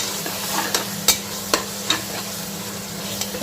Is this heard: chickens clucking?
no